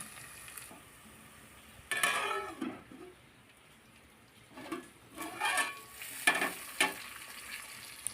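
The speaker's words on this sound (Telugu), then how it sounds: "ఇది కూడా అల్లం పేస్ట్ పసుపు స్మెల్ పోయేంత వరకు ఒక టూ త్రీ మినిట్స్ మంచిగా ఫ్రై కావాలి" Ginger paste and turmeric frying in a pan, a steady low sizzle broken by a few bursts of spatula stirring and scraping against the metal.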